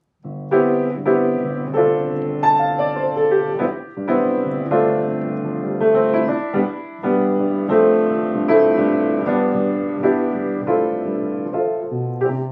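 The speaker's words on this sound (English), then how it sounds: "The last standard intro that I'll show you today is called the 8-bar pedal." A solo piano plays a slow 8-bar pedal jazz intro over a sustained low bass note, with rich chords moving above it.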